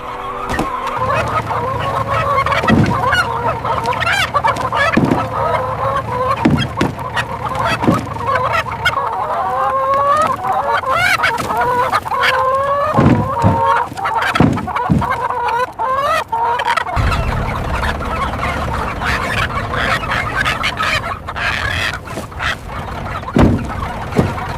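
Hundreds of caged chickens cluck and squawk close by in a dense, continuous chorus, with overlapping calls and scattered sharp thumps and rattles throughout.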